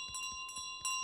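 Bells ringing in Untitled Goose Game, several short bright metallic strikes in quick succession over a sustained ringing tone, the last strike loudest.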